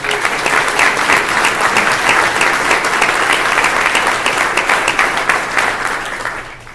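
A room full of people gives a round of applause for a Cub Scout at a governor's event, loud, dense and sustained clapping that carries evenly before tapering off at the end.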